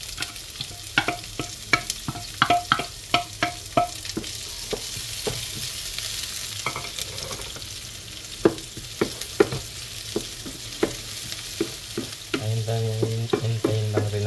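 Onions frying in a hot pan, sizzling steadily while a utensil stirs and scrapes in frequent sharp clacks; a louder hiss swells near the end.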